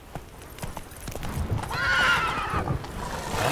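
A horse in The Witcher 3 video game gallops with steady clip-clop hoofbeats and lets out a loud neigh midway, with no talk over it.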